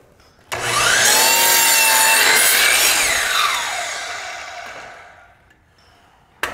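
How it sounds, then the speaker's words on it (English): A non-slider miter saw bites into a wooden baseboard, its loud rasping cut starting abruptly and holding for a few seconds before the blade noise fades away as it spins down. "I can make that cut with my miter saw"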